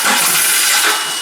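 A Nissan forklift's K21 engine cranks without starting, giving a steady, loud, unbroken whirring grind throughout the short stretch.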